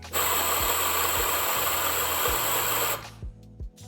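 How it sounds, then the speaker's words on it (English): A Zuriga G2 espresso grinder grinds 5 grams of coffee, a steady, loud, close whirring burr drone lasting about three seconds before cutting off abruptly, followed by a few faint clicks and thumps. "I'm going to grind 5 grams of coffee with both grinders. I start with the Zuriga G2."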